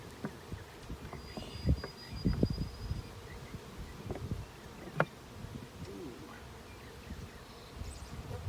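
A honeybee swarm hums in a cedar tree, a faint steady drone far off under rustling, soft handling noises and occasional knocks close by.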